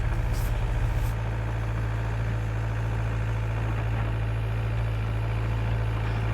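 A 2011 John Deere 60D excavator idles nearby with a steady, deep diesel rumble and a constant low hum that stays even throughout, with no talk.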